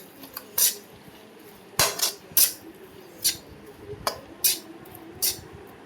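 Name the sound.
stirring salted Kerala chicken curry in a pot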